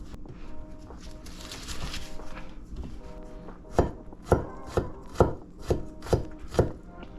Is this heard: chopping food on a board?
yes